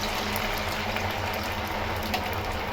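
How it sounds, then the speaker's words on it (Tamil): Vada batter frying in hot oil, a steady dense sizzle and bubbling hiss that carries evenly throughout at a moderate level, with no talking. "இதில் நம்ம அப்புறம் மெதுவாக இந்த வடையை போட்டுக்கலாம்"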